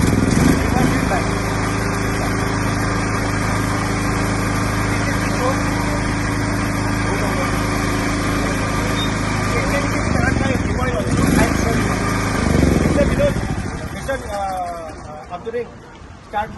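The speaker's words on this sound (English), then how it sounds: "it's an ultra compact noise version Bajaj and petrol generator set, self start" A compact self-start Bajaj 10 kVA petrol generator runs with a steady, loud engine drone, then winds down near the end; people talk over it.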